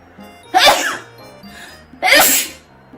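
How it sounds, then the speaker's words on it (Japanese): Two loud, close human sneezes, each a sharp burst with a breathy tail, separated by a short pause with a quieter intake of breath between them. "それが久しぶりのくしゃみ動画でございます"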